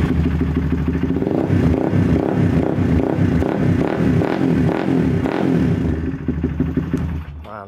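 Honda CBR facelift motorcycle engine running after a restart, a loud rhythmic throbbing idle with mechanical clatter close by, fading toward the end.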